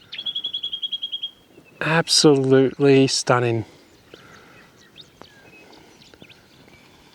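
A bird trills in a quick run of chirps by a creek, then a person speaks briefly, followed by faint scattered tweets against quiet outdoor ambience.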